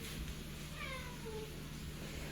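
A cat meows twice, soft and drawn-out, over a quiet background with a steady low hum.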